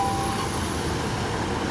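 A train passes through Marsh Barton station, giving a steady, loud rumble of wheels on rail with a faint high squeal above it.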